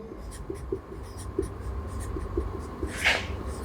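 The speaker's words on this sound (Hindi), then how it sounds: "मैं यहां लिख रहा हूं" Marker or chalk writing on a classroom board during a process costing lecture, heard as a series of short, soft scratchy strokes with a brief louder squeak near the end, no talking over it.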